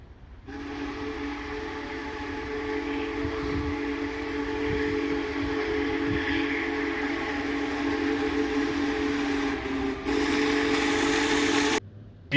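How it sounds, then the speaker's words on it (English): Union Pacific Big Boy steam locomotive 4014 rolling past in a neighborhood, a loud sustained chord whistle blowing over steady rumbling rail noise for most of the pass, close and continuous, with no talking. "On Friday, I got to see Big Boy Locomotive 4014 roll through my neighborhood."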